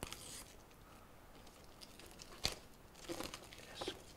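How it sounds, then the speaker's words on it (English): A paper bag package holding a Hohem iSteady X gimbal stabiliser is unwrapped, with faint, close crinkling and a few sharper tearing crackles scattered over a few seconds. "Let's get the wrapping off."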